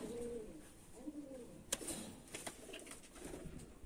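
Pigeons in a loft coo softly and repeatedly, low murmuring calls recurring through the moment alongside faint rustling and a couple of sharper clicks, with no talk.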